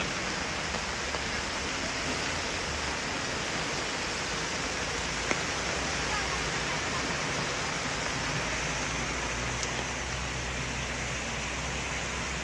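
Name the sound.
floodwater flowing along a city road after heavy rain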